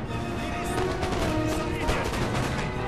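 Musket volley fire in Napoleon: Total War crackles as overlapping bursts of shots over a busy battlefield din, steady and fairly loud for about three seconds.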